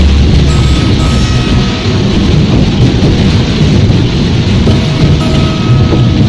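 Heavy rain with rumbling thunder during a muddy off-road drive from Haridwar toward Uttarkashi, a dense, loud, steady downpour roar throughout.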